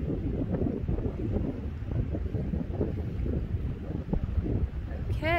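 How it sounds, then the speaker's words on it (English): Strong wind buffets the camera microphone near Stanley, Idaho, giving a loud, continuous gusty rumble throughout, with a faint higher whine at the very end. "the wind is very, very powerful. It's jostling my camera."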